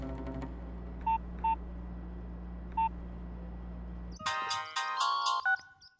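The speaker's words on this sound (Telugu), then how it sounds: "ఒక కాల్ చేసుకోవచ్చు సార్?" Telephone tones: three short identical beeps spaced out over a steady low hum, then after a cut a louder burst of stepped dial tones and ringing, alone without talk.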